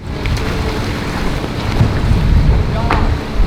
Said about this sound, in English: over 80 offshore powerboats come here and thunder down the beach